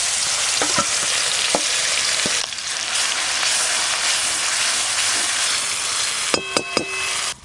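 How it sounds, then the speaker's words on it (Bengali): Chicken chaap fries in hot oil with spices, giving a steady, loud sizzle throughout, with a few sharp clinks of a utensil against the pan near the end. "ওই ভাজা তেলে চিকেন চাপটা রান্না করে নেব"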